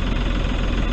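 Tractor engine chugging steadily in a soft cabbage field during spraying, a close, low, continuous rumble lasting under a second.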